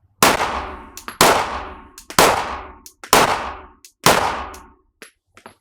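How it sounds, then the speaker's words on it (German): Five sharp gunshots ring out one at a time, about a second apart, each loud and close with a short echo trailing off, during shooting training. "Nochmal, 5 Schuss feuerfrei."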